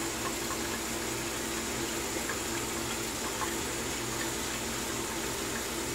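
Water runs steadily from a tap to rinse a shaving brush after lathering shave soap, a constant close gushing wash with no pauses.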